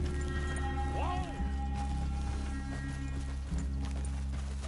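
Horse hooves clip-clopping in a video game, a steady trotting rhythm under background music and a whinny, with game characters talking over it.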